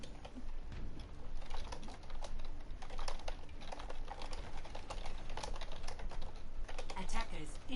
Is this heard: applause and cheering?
no